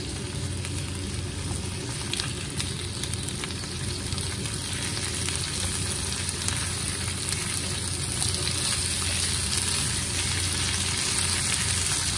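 Butter and a lamb chop fry in a pan, giving a steady, close sizzle with a constant crackle that holds even throughout, with no talking over it.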